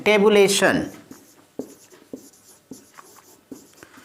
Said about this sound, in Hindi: यहां मैं लिख देता हूं सारणीयन